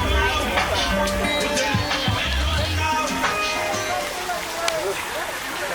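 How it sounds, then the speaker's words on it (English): Rushing water sprays and splashes over a noisy theme park ride with a simulated rain effect at Universal Studios, with people talking and shouting amid steady rain-like hiss. "Everybody grab your thunder buddy because we've got some rain."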